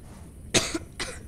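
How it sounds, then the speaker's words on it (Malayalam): A couple of sharp coughs from a gamer during a ray-gun run in a 99 Nights game session, close to the mic with a short pause between them. "നമുക്ക് ചെറിയ ചുമയൊക്കെ എന്നാലും കുഴപ്പമില്ല ഗൈസ്"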